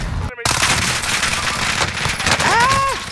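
Rapid automatic gunfire from a fast-shooting gun in Call of Duty Warzone, a loud burst of quick shots after a brief silent gap, with game sounds and a short whistling tone near the end.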